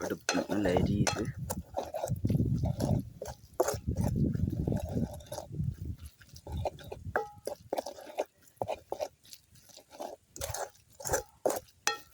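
Spices being stirred into flattened rice (aval) kothu in a pan, with repeated clinks and scrapes of a spoon against the pan and a sizzling cooking bed, close and moderately loud, under intermittent talk.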